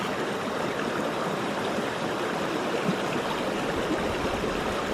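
Clear mountain stream in Corsica, a steady broadband rush of flowing water, close and continuous with no voices.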